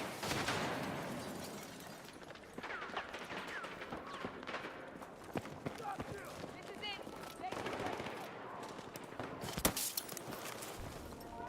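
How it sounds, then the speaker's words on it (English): Shotgun blasts ring out in a hardcore Battlefield 6 match: a few sharp reports among other battlefield gunfire, with one loud, close shot near the end and a voice talking over parts of the action. "Ooh, that's a shotgun"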